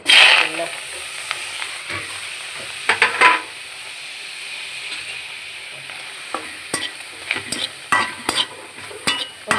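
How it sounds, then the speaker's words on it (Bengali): Shrimp and onion fry together in a hot wok, giving a steady sizzling hiss broken by repeated scraping and stirring strokes that grow sharper and more frequent toward the end. "এই যে আমাদের কড়াই গরম হয়ে গেছে চিংড়ি মাছ আর পেঁয়াজ একবারে দিয়ে দেবো"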